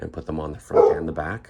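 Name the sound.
dog barking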